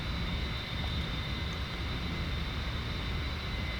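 A military jet in the DCS flight simulator climbs out after takeoff with wheels and flaps up, its engine producing a loud, steady broadband roar with a high whine that continues throughout.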